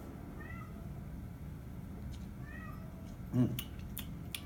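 A house cat meows twice indoors, short rising-falling calls heard faintly under steady room noise, followed by a brief bump and a few light clicks.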